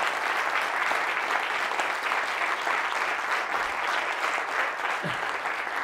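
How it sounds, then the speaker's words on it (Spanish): An audience at a Spanish-language conference on overcoming addiction breaks into sustained, loud applause, a dense even wash of clapping that continues for several seconds without any voices. "Pues un aplauso muy fuerte a todos los adictos y adictas que estáis sufriendo por esta enfermedad"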